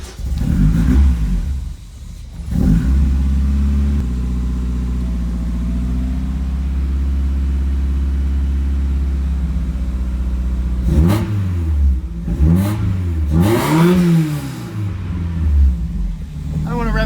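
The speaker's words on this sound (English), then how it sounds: "I'll start up the car" A car engine fitted with a new wideband gauge, running rough and cold, cranks to life and settles into a loud low rumble, then revs up sharply a few times near the end, with speech heard over it.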